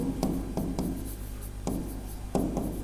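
A pen writing on paper while a geometry construction is worked out for a Class 10 maths sample paper, with steady close scratching and periodic sharp taps as strokes begin, over a constant low background hum.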